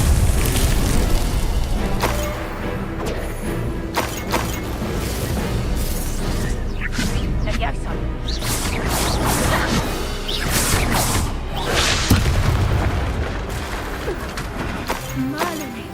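Fire and ice spells are cast in combat in the Hogwarts Legacy video game, producing dense, loud booms, whooshes and shattering crashes in quick succession, with voices shouting over the action.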